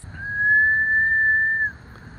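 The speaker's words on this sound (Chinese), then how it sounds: "果然吹口哨他就会看你" A single sustained whistle blown by a person in a Costa Rican roadside setting to catch a monkey's attention, one steady clear tone lasting over a second, close and loud.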